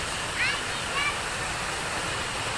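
Karapınar waterfall at the source of the Gediz River pours in a steady, broadband roar of falling water that fills the scene at close range, with a couple of faint chirps briefly rising above it.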